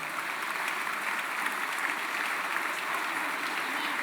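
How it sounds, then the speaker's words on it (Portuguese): An audience claps for a couple at a church gathering, a dense, even burst of applause that holds steady for several seconds with no one talking over it. "Uma salva de palmas para o casal."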